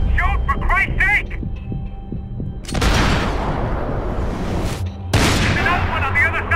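Gunfire in the video game Max Payne 3 rings out in heavy, rapid bursts with loud booming shots and echoing impacts, mixed with shouting voices over the action.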